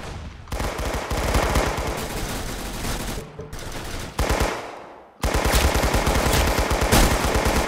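Rapid automatic gunfire from the Roblox-style shooter Arsenal, loud and close, in long sustained bursts with brief gaps and a sharp restart near the end, with no talk over it.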